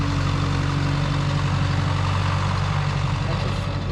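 Oliver 660 tractor engine idling steadily nearby, a continuous low rumbling drone with even chugging pulses and no breaks.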